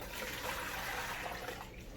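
Water runs steadily into containers set up to rinse freshly dipped coral, a continuous close splashing pour filling the whole moment with no voices.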